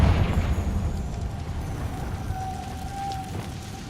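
A Confringo fire spell blasts in Hogwarts Legacy, a heavy booming burst up front that rolls off into a rumbling, crackling decay with a faint high whine.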